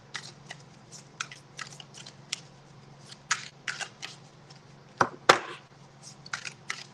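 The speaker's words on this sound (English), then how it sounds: "Shuffle these really good." A deck of tarot cards being shuffled by hand, giving irregular papery flicks and riffles close by, with two sharper snaps near the end over a low steady hum.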